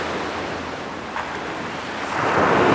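Steady broadband wind rushing over a microphone at a beach in Fukuoka, Japan, with surf noise beneath, growing slightly louder toward the end.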